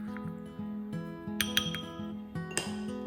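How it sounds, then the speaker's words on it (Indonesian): Spoon stirring yeast, sugar and warm water in a glass, a quick series of close, bright clinks against the glass in an uneven rhythm, clear and alone. "Aduk hingga rata"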